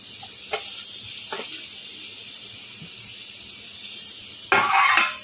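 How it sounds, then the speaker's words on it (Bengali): Chopped vegetables dropped into a pan of softened onions in a little oil, sizzling as a brief loud burst near the end after scattered faint clinks and knocks. "এখন এই কেটে রাখা সবজিগুলো সবগুলো একসাথে এর মধ্যে দিয়ে দেবো।"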